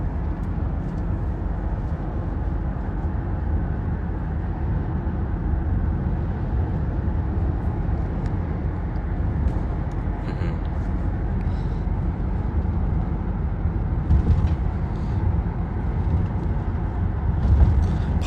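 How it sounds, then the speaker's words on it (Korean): Steady road traffic noise from a congested street, a continuous low rumble with a few passing swells, fairly loud and unbroken for the whole stretch. "지금 약간 차 소리 때문에 제 목소리가 잘 안 들리지 않아요?"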